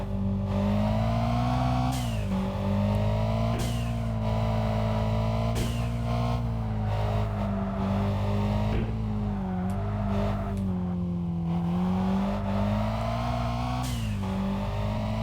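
In the racing video game Kaido Racer, a car engine drones and revs through gear changes, its pitch climbing and then dropping at regular intervals, loud and steady with no talking.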